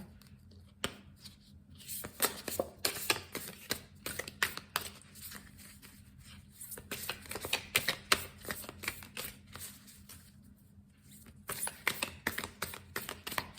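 Rapid bursts of crisp, riffling card shuffles repeat irregularly, close and fairly quiet, separated by short pauses.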